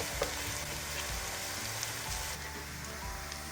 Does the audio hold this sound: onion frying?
yes